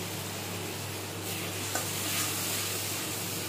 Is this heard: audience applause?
no